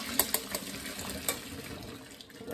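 Water pouring steadily as boiled oysters are strained, a continuous splashing flow with a few sharp clinks near the start, close and moderately quiet.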